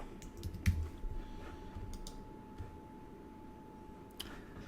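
A few soft, scattered keystrokes on a computer keyboard while card payment details are typed in, faint and intermittent over a steady low hum.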